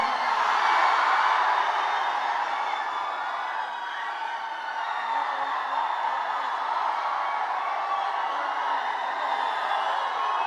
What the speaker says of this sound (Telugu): అమ్మాయిలందరూ అరుస్తున్నారు మన రామ్ కోసం.